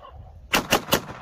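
Newly bought firework rockets go off on a hill with three sharp, close cracking bursts in quick succession after a brief quiet moment, fairly loud outdoors.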